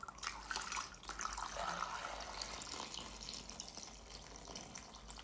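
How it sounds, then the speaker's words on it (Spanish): Water poured over lemons and coins in a bowl for a money ritual, a steady splashing, trickling pour lasting several seconds, alone and fairly soft. "vas a dejar caer el agua."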